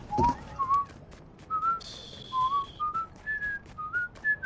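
A person whistles a short, wandering tune of rising and falling notes while playing Fortnite, with steady pitched whistles near and clear, sustained tones, and a few game clicks in the background.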